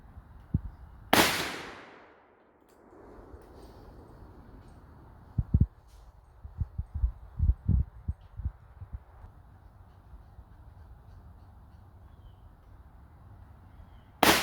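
Large-caliber revolver fire from an X-frame and a BFR in .500 Magnum: one enormous close blast with a long echoing decay, then a pause and scattered distant thumps, and another sharp shot at the very end.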